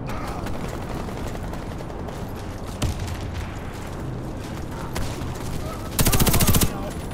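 Weapons fire in the online shooter Warface, with a steady wash of game combat, a few sharp shots standing out and a rapid burst near the end, all loud and close.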